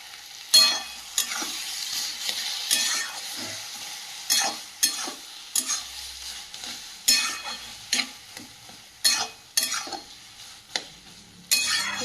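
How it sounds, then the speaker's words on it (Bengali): A utensil stirs dry-cooked bottle gourd with ground cumin and chili in a sizzling pan, giving repeated scraping and clinking strokes in an uneven rhythm over a low fry. "নাড়াচড়া করে নিলাম"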